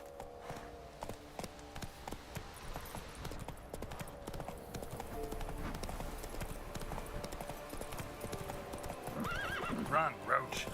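Roach the horse gallops in The Witcher 3: Wild Hunt, hooves clip-clopping in a quick, steady rhythm that grows louder toward the end, with a neigh and a brief voice.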